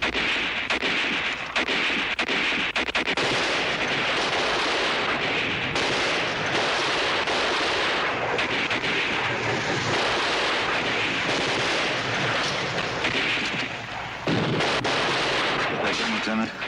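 Artillery fire in a war drama, a dense, continuous roar of booming blasts and rumbling explosions under occasional voices.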